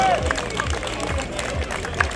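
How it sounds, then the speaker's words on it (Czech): Audience applause at the close of a grilled suckling pig contest awards ceremony at a stadium in Vracov, moderate steady clapping with crowd murmur and a few brighter accents. "Ještě jednou velký potlesk pro vás všechny"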